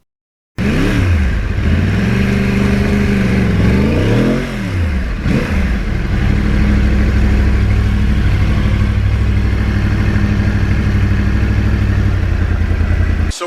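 A Yamaha R1 crossplane sport motorcycle starts and revs hard, its engine pitch climbing and falling in a few sharp sweeps before settling into a loud, steady high-rpm drone, close and alone without speech.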